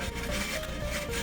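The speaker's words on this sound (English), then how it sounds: "so I lubed it up and started hacksawing through." A steady rasping scrape of a hacksaw cutting through copper, continuous and close, with no pauses and no voices.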